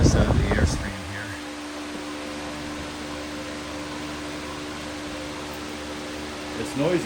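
A Utilitech 20-inch high velocity three-speed floor fan runs on low with a steady airy whoosh and a faint motor hum, close and constant, with brief handling noises at the start and end.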